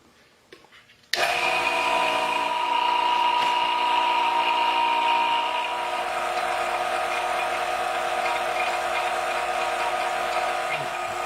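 A vacuum chamber pump kicks on abruptly after a second of quiet, evacuating air from a pot of resin with a steady, close mechanical whir and hum that continues unbroken, easing slightly in level partway through.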